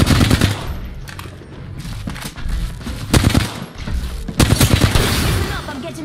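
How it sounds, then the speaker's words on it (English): Automatic gunfire crackles in an Apex Legends ranked match, several close rapid bursts with short gaps between them, loud and sharp, with a player talking over the shooting. "Getting shot at."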